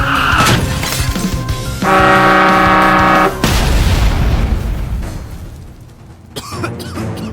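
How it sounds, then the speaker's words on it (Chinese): A truck rams an armored car in an animated scene: loud booming impacts and crunching, shattering crashes, with a sustained blaring tone in the middle, all close and heavy with no voices. "装甲车左侧出现一阵轰隆隆的声音，下一秒，一个大货车的屁股出现在视野之中"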